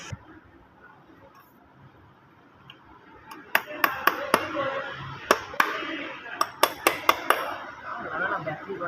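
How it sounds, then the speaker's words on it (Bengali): A hammer strikes a metal fitting in an ITI motor mechanic vehicle trade workshop, tightening it with a string of sharp, ringing taps at an uneven pace over a faint murmur of background activity. "এবার ঠোকাতে টাইট হয়ে যাবে।"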